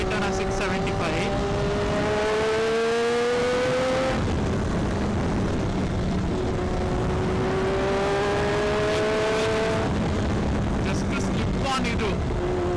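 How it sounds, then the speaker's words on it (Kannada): A Triumph Daytona 675 with an SC Project exhaust revs up and shifts through several gears while being ridden, its engine note loud and steady, with speech over the top and wind noise throughout. "ರಾ ಬೈಕ್ ಇದು ಡೇಟಾನ 675"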